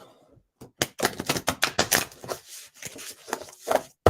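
A deck of stiff oracle cards shuffled by hand, rapid crisp riffling clicks and flaps in quick bursts, close and fairly loud, with no talking.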